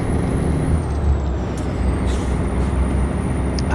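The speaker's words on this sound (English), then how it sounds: "I'll be driving my Freightliner Cabover" Air brakes on a 1980s Freightliner Cabover truck in American Truck Simulator give a loud, steady hiss that holds unbroken over a deep engine rumble for several seconds, close and alone.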